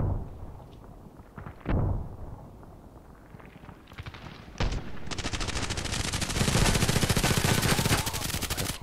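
Sustained automatic gunfire from a match in the online shooter Contract Wars, loud and dense, with scattered single shots early on building into a continuous rapid burst that fills the second half.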